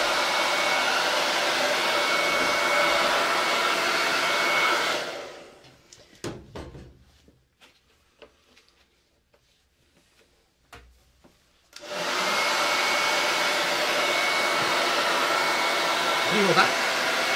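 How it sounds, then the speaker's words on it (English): A handheld hairdryer blows steadily to heat WoodUBend flexible wood trim on a reclaimed cupboard door, a loud continuous whoosh that cuts off for several seconds with small handling knocks, then starts up again. "So let me grab my hairdryer."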